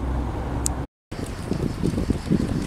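Wind buffets an outdoor microphone at a rally event in Lucca: a loud, steady low rumble that drops out for a moment, then returns with gusty fluctuations, no one speaking.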